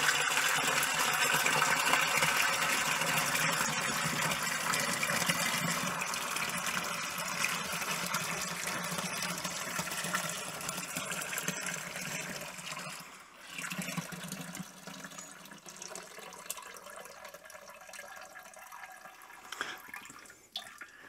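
Cabernet Sauvignon grape juice pouring from a bag tap into a fermenter, a steady close gushing splash that thins toward the end into trickles and drips, with no talking.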